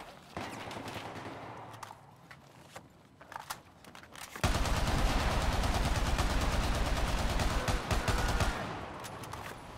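RPK machine gun fire in Battlefield 4 on the Operation Locker map: scattered distant shots at first, then a sudden, loud, sustained burst of close automatic fire that tapers near the end.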